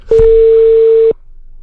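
A loud, steady single-pitch telephone tone sounds for about one second during a prank phone call, cutting off abruptly and leaving faint background noise.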